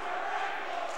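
A CBC fan section in a high school basketball tournament crowd calls out together, a brief, dense wash of shouting voices filling the gym.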